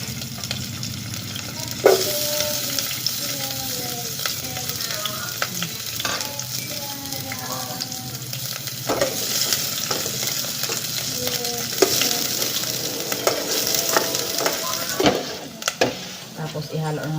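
Garlic and onion fry in oil for a bamboo-shoot and shrimp dish, giving a steady close sizzle with repeated scraping stirs and utensil knocks, while faint voices sit underneath.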